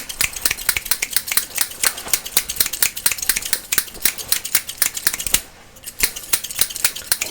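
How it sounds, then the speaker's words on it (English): Rapid, close snipping of haircut scissors in a barber-style ASMR roleplay, a steady run of crisp metallic cuts with one short pause near the end. "it's time to trade out these scissors for my even more intensely amazing scissors."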